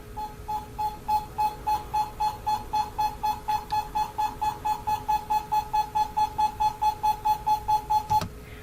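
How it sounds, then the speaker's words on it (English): An EMF detector sounding a loud, rapid train of evenly spaced electronic beeps, about three per second, continuing steadily for around eight seconds before cutting off, heard close during a paranormal investigation. "the super obnoxious loud EMF detector going off"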